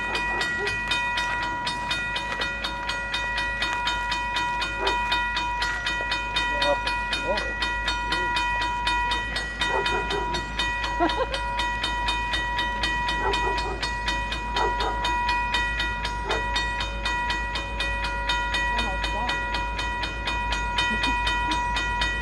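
CapeFLYER passenger train from 2013 rolling past with a steady loud rumble and sustained horn-like tones, faint wheel clicks and a voice or two under the noise.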